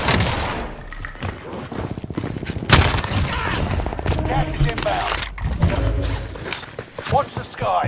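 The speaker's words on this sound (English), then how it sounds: "Enemy precision airstrike." Explosions and gunfire from a precision airstrike in a Call of Duty multiplayer match, loud bursts and rapid shots with sharp impacts, under talk.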